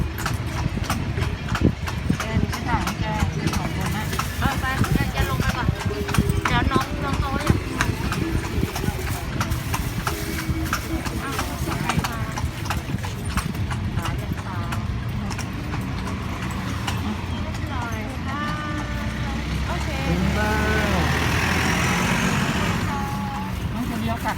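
Hooves of a carriage horse clip-clop steadily at Wat Phra That Lampang Luang in Lampang, under constant loud chatter from riders, with an engine rumbling nearby.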